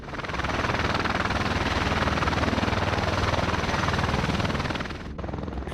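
A V-22 Osprey tiltrotor aircraft starting up on a dirt landing site for takeoff, its rotors producing a loud, steady, throbbing roar that briefly dips near the end before resuming.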